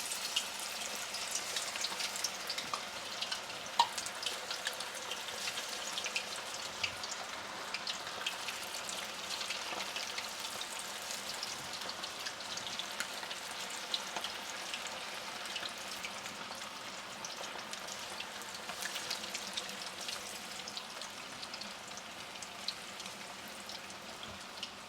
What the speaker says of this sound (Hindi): बस इसको हम तकरीबन बारी बारी पे फ्राई करेंगे, तो तकरीबन 3 बारी करके आपने इसको फ्राई करना है।